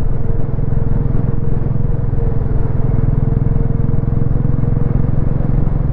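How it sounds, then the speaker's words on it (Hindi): A motorcycle rides along a mountain road in Spiti Valley, its steady engine rumble merged with loud, constant wind buffeting close to the rider. "हवा बहुत तेज़ चल रही है और ऊपर से बाइक भी चल रही है।"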